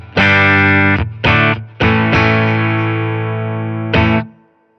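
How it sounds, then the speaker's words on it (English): Electric guitar played through a Fender Tone Master Twin Reverb amp with a clean boost pedal engaged: loud, full chords with a slight edge, struck in short bursts then one long sustained ring and a final stab. "So this is just a clean boost, so you're just adding a little bit of volume and some mass to it"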